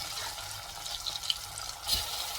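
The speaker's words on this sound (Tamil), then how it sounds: "எண்ணெயிலிருந்து அந்த சவுண்டு வருது பாருங்க, நல்லா நுரைச்சி வருது." Pieces of taro root (seppankilangu) frying and foaming in hot oil give a steady, close bubbling hiss, swelling into a brief louder burst of sizzle near the end.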